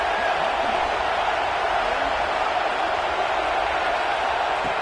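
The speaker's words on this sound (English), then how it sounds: "Listen to this noise here." Stadium crowd in a college football video game, Iowa against LSU in a playoff quarterfinal, roaring as one loud, steady wall of noise that holds for the whole stretch without a break.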